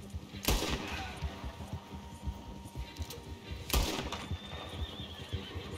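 A horse whinnies in Red Dead Redemption 2 over busy outdoor game ambience, with two sharp, loud bursts resembling gunshots spaced a few seconds apart.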